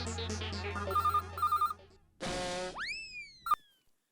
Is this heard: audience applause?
no